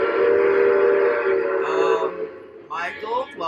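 Model trains running with a loud, sustained train whistle blaring close by for about two seconds, then fading under a rumble of running stock while someone talks over the end.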